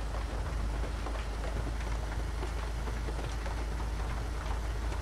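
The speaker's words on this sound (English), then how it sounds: "There's a hail core." Dense, steady hail and rain patter in the Roblox storm-chasing game Twisted, a continuous close hiss of pelting ice with no gaps for the full stretch.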